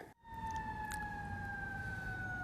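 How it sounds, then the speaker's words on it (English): Emergency vehicle sirens wailing in South Sarasota County, a loud sustained tone sliding slowly downward after a brief dropout at the start, heard alone. "Certainly perfect timing right now at the sirens behind me here at South Sarasota County."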